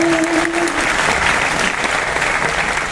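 Sustained audience applause at a Hindi poetry recital (kavi sammelan) at the Red Fort, a dense, continuous clapping from a large crowd throughout, with a brief tonal voice note near the start.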